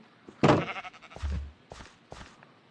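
A sheep in the Minecraft video game bleats in short synthetic bursts, with a couple of thunks and clicks between calls, close and clear.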